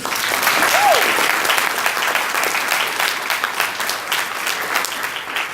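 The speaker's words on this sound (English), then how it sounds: "If you believe that, clap your hands." University audience clapping hands in sustained, even applause that fills the whole stretch, with a voice briefly audible beneath it.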